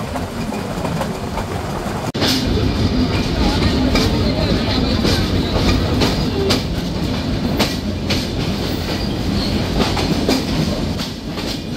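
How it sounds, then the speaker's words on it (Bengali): The Silk City Express train rumbles loudly into Dhaka's Airport railway station, with rhythmic clickety-clack of wheels on rails, sustained throughout as it rolls in. "এই মুহূর্তে ট্রেনটি প্রবেশ করছে তার প্রথম যাত্রা বিরতি স্টেশন ঢাকার বিমানবন্দর রেলওয়ে স্টেশনে"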